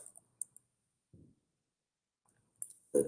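A computer keyboard gives a few scattered soft clicks close by, separated by near silence, with a slightly louder burst of taps at the end.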